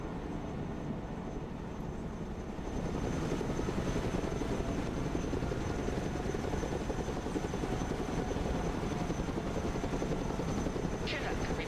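A Chinook helicopter in the video game Broken Arrow gives a steady, dense rotor drone that grows louder after a couple of seconds and then holds level throughout.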